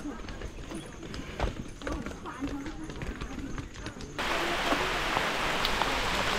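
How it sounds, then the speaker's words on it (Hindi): Steady rain patters and hisses close by on a mountain trek at Brahmagiri, Trimbakeshwar, with scattered thuds and footfalls underneath, then the downpour abruptly grows louder and denser. "बारिश हो रही है"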